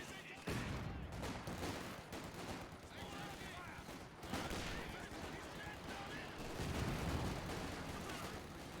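MG42 machine gun fire in the World War II strategy game Company of Heroes 2, dense rattling bursts mixed with other gunfire and explosions in a busy battle soundscape, with commentators talking over it.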